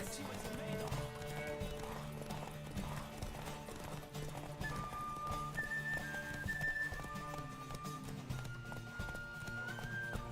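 Horse galloping in The Witcher 3 video game, steady rhythmic hoof clip-clop with brief whistling game tones partway through, and a voice speaking faintly beneath.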